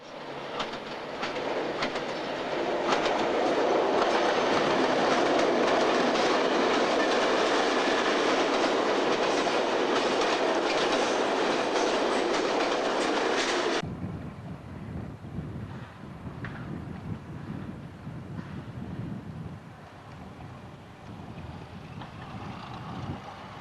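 An old British Rail diesel locomotive train runs past, a loud dense roar and rumble that cuts off abruptly to a quieter rolling clatter and low drone, with no voices.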